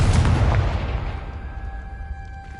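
A Confringo blasting spell goes off in the Hogwarts Legacy video game as a loud, booming explosion with a heavy low-end burst that decays over two seconds into a fading rumble, leaving faint tonal game ambience.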